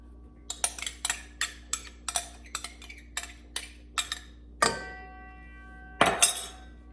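A spoon clinks and taps repeatedly against a container while stirring salad dressing, a string of sharp, close knocks followed by a couple of louder ringing strikes, with no talking.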